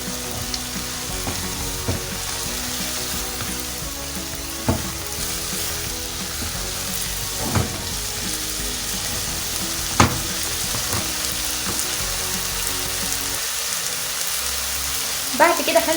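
Small pieces of garlic fry in a pan for Syrian-style kibbeh, making a constant rain-like crackle with occasional louder taps and scrapes as they are stirred.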